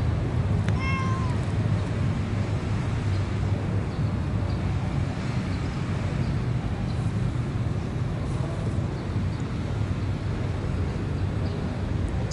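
A cat gives one short, clear meow early on, heard outdoors on a walk in Batu Caves, Malaysia, against steady wind and low background rumble with no talking.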